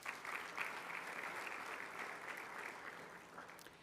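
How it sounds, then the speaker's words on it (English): Applause from the audience at a technology centre launch event in Kigali, a steady wash of many clapping hands heard from some distance, fairly soft and tapering slightly toward the end, with no talking. "So, warm round of applause there."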